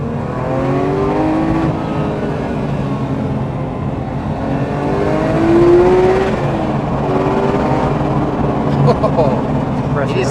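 Porsche GT3 Touring engine pulling hard under acceleration from inside the car, a rising and falling mechanical tone that climbs through the revs, loud and continuous with little else over it.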